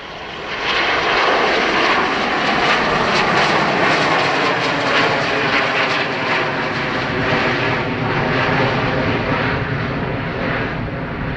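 Aircraft engines thunder on the runway at Dublin Airport, a loud steady roar that builds quickly and holds for several seconds, with no voices.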